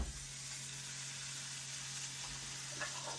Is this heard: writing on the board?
no